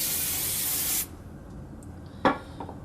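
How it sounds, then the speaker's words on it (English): A steady hiss of hairspray being sprayed onto a ballerina bun hairstyle for about a second, then a brief rustle and soft clicks afterward. "We're going to spray that."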